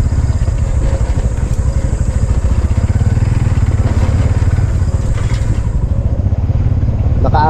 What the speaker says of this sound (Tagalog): Naka-apat na balik na itong tricycle na ito dito.